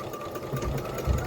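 Sewing machine slowly working a stitch while making holiday fabric gift bags, a steady mechanical hum with soft rhythmic thumps, close and alone.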